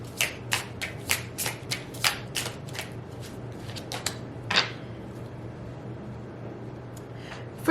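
An oracle card deck being shuffled by hand, a quick run of crisp riffling bursts that slow and thin out, with a final flurry midway, close and fairly quiet over a low steady hum.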